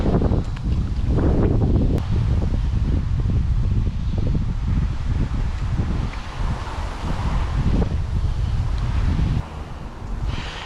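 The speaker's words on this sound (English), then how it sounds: "the wind is getting worse" Strong wind gusts buffet the microphone beside an English chalk stream in autumn, a continuous rough roar with rustling layered through it, loud and close for the whole stretch.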